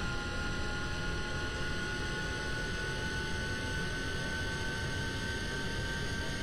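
Spaceplane jet engines in the Kerbal Space Program game drone at steady, loud throttle, a continuous broadband roar with a high whine running evenly throughout.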